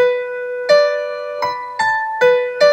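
Piano notes played one at a time in a short melody, six struck notes with clear attacks and ringing decay, close and moderately loud.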